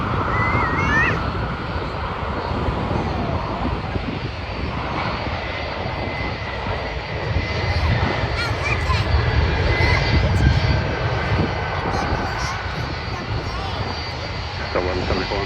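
An airliner on final approach to land on runway 12 right at Minneapolis airport, its engines roaring loud and steady, swelling slightly as it passes close, with a voice talking over the noise.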